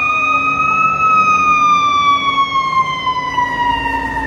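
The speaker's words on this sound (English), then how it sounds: "There's a fire engine." A fire engine siren wails steadily on a New York City street, its rising and falling tone loud and continuous over traffic rumble, with no talk.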